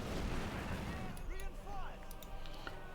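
Mortar rounds and battle fire in Company of Heroes 2 during a Wehrmacht versus Soviet match, with a couple of moderately loud bursts and whistling shells over dense ambient combat noise.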